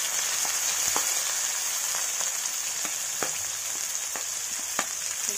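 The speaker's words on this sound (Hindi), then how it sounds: "अब हम इसमें कटी हुई प्याज डाल देंगे।" Chopped onions and slit green chillies sizzling in hot oil in a pan, a steady close frying hiss with scattered sharp pops and crackles throughout, no voices.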